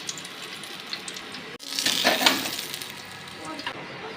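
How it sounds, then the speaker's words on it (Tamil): Vegetable momos fry in hot oil, a bright crackling sizzle that swells as they go in and then settles into a softer, steady fizz. "எண்ணெய் கஞ்சது மிதமான சூட்டில் வச்சு இந்த மாதிரி பொரித்து எடுத்துக்கலாங்க"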